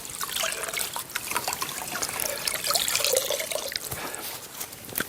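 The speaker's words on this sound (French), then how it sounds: "Pour le rinçage, on peut aussi utiliser cet outil qui s'appelle un platoir à nettoyer." A wet, well-wrung foam cleaning float scrubs and rinses freshly laid pool tiles, giving a continuous close, watery swishing and dribbling with small drips throughout, no talking.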